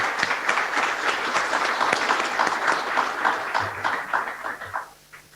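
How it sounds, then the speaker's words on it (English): An audience at a credit union's annual meeting claps for a few seconds, close and fairly loud, with individual claps audible before it fades out quickly at the end. "Let's give them a round of applause."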